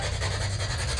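A continuous rough scratching, like something rubbing or rasping against a surface, steady and close for about a second with no pauses.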